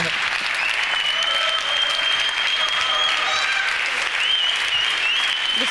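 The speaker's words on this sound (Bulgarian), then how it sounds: "Вашите аплодисменти за Радослав!" A large audience at a live televised music show applauds loudly and steadily, with sustained clapping filling the whole stretch and faint cheers in the mix.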